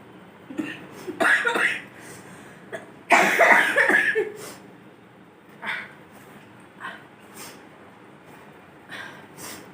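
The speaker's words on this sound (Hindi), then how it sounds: "पर मेरी खांसी भी आ रही है" A woman coughs during a nose-tickling sneeze challenge with long grass, giving several harsh, close bursts of coughing and snorting breaths, with quieter sniffs and throat sounds between them.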